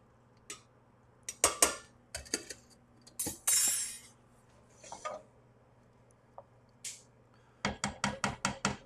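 A spoon stirring pasta in a cooking pot, giving quiet, scattered metallic clinks and scrapes in short bursts with gaps of near silence between them.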